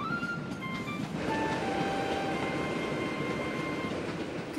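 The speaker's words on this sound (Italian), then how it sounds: "No, è il treno che si muove, piccolo, anche se sembra che sia la stazione a farlo." A train pulling out of a station, a steady close rumble and rolling rail noise with faint high squeals from the wheels, continuous and moderately loud throughout.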